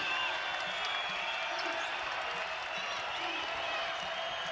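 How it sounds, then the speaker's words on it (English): A college basketball crowd at a home finale between Utah Valley and New Mexico State, cheering and applauding as a steady, dense roar throughout. "And here comes the crowd in the home finale."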